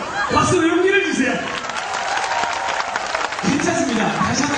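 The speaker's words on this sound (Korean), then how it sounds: "박수로 용기를 주세요" An audience bursts into applause at a live stage comedy show. The dense clapping rises between stretches of a man's amplified speech and fills the middle of the moment fairly loudly.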